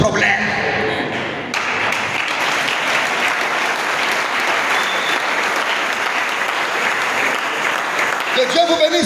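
Guests at a church wedding blessing break into loud, sustained applause and acclamation. It follows a brief stretch of voices, holds steady, and is followed by talk again at the end.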